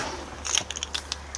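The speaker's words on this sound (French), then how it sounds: "je sors la clé et puis je la remettrai après sur son trousseau" A coach driver removes a key from a keyring before opening the luggage hold of a Van Hool EX 16M touring coach, giving a few brief metallic jingles and clicks close by over a low steady hum.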